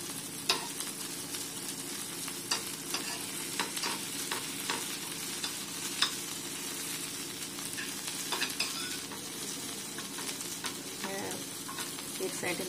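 Drumstick pods frying in a pan, stirred with steady sizzling and intermittent scraping clicks of the spoon, close and continuous.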